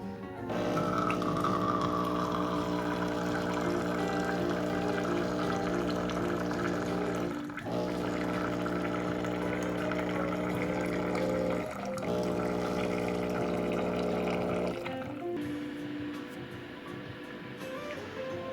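A Flavia Creation C200 coffee machine dispenses hot water during descaling, with a steady droning pump hum and watery trickle that shifts a few times, then cuts out near the end, leaving a faint, rough trickle.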